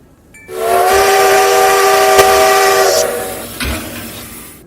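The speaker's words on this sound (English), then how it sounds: "Bessie Lou is the name of the locomotive." A steam locomotive arriving on a newly built railroad gives a loud, sustained whistle with hissing steam, rising abruptly and holding for about two and a half seconds before fading, with a brief second burst near the end.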